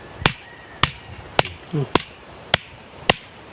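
A hammer striking metal as a machete blade is forged by hand in a village smithy: six sharp, ringing blows at a steady, unhurried rhythm, close and loud, with a brief low voice between strikes.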